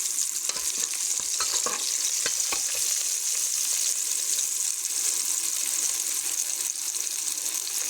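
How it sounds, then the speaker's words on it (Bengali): Onions and garlic frying in oil in a wok, with a continuous close sizzle and several sharp stirring scrapes and clinks early on, then a steady hiss, with no talk. "তো এখন আমি এগুলো লাল লাল করে ভেজে নেব।"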